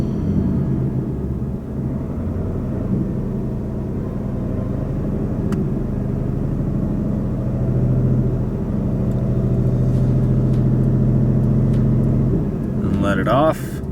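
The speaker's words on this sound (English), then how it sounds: "so now it says to rev to 1500 RPMs." Ford Mustang engine on a flex fuel tune held at about 1500 RPM, a steady low rumbling idle-like drone for over ten seconds, loud and close, ending with a brief rise.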